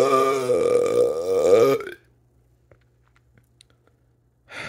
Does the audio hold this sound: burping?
yes